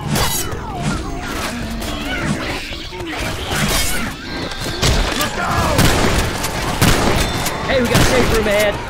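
Rapid gunfire and impacts crackle during a Left 4 Dead 2 fight against a Charger, a dense chaotic barrage of shots mixed with crashes and shouting characters' voices.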